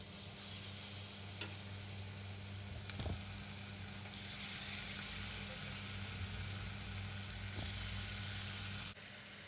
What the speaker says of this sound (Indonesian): sekarang tinggal digoreng bakwannya.